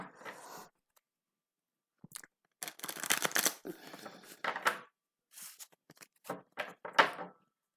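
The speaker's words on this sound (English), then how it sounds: "One more quick shuffle and let's get going here." Close, crisp bursts of cards being shuffled, riffles and flutters broken up by short silences.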